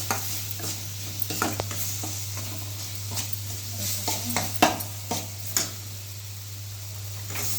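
Vegetables and spices being stirred and sautéed in hot oil in a pan: a continuous sizzle with repeated scraping clinks of a spoon against the metal, close and fairly loud, with a low steady hum underneath.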